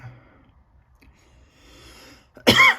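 A single sharp cough bursts out near the end after a stretch of quiet room sound and faint rustling.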